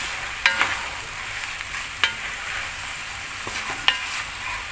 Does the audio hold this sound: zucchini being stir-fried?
yes